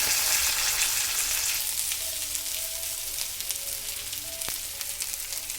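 Chopped onion and tomato sizzle steadily in a pan as they are sautéed for upma, a loud, even frying hiss with small crackles throughout.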